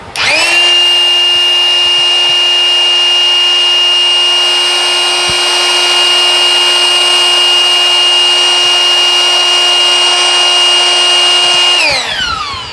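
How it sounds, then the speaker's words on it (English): A cordless leaf blower runs on a 6 amp hour battery: a loud, close, steady high-pitched whine spins up at the start and holds at full speed for about eleven seconds before winding down, with no voices. "Let's see if the 6 amp hour can crank out enough watts to increase the performance of this blower."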